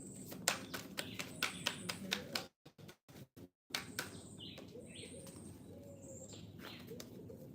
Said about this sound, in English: The turtle doves in the background.